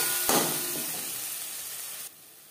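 Ginger paste and green chili paste hitting hot oil with cumin seeds frying, a loud burst of steady broadband sizzling that starts abruptly, holds for about two seconds, then drops sharply to a softer hiss.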